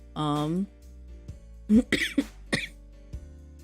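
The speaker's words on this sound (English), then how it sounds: "stupid cough." Several coughs and a throat clear from a single person indoors, a strained voiced cough at the start followed by short, sharp bursts spaced over a few seconds, close and fairly loud.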